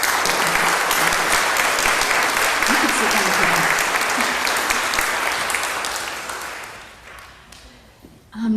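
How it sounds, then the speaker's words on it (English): Sustained applause from a meeting audience honoring two leaders, loud and dense clapping for several seconds that fades out near the end, with a voice speaking over it. "Can everybody here give these two leaders a nice round of applause?"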